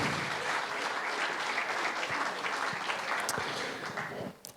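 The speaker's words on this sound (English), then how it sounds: "Keep the applause going for Patty, Dave, and Tony." Audience applause at a Lincolnshire songwriting competition event, a dense, even wash of many hands clapping at moderate distance, sustained throughout before tapering off at the end.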